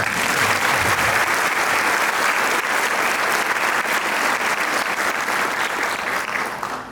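An audience at a book launch event claps continuously and evenly for about seven seconds, a dense, sustained applause that fades slightly at the end.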